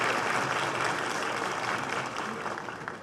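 An audience at a solemn session of the Brazilian Senate applauds Senator Laércio. The clapping is dense and even, fairly full at first and then slowly fading over about three seconds.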